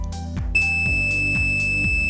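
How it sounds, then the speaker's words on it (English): A multimeter set to continuity beeps while its probes touch points on a circuit board for a home-made spy security camera, giving a steady loud tone that starts a moment in and keeps sounding. "As you can hear the beep."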